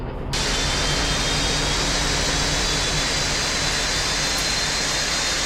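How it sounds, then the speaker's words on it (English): In the X-Plane 12 flight simulator, engine number one on a Felis Boeing 747-200 spools up after a brief quiet start, becoming a loud, steady, broadband jet roar with a faint high whine on top. "There's engine number 1 spooling up."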